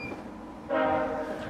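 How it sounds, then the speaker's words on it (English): A VIA Rail F40PH locomotive arriving sounds its horn, a loud sustained chord that cuts in partway through over a steady rumble of the approaching train. "That's an F40 coming in"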